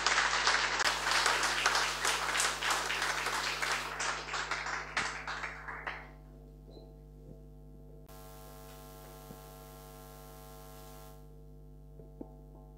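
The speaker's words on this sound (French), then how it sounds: "Vous pouvez l'applaudir." Audience applause for a lawyer from the Togo bar at a law award ceremony, a dense crowd clapping that thins and fades over six seconds, leaving a steady mains hum and faint ticks.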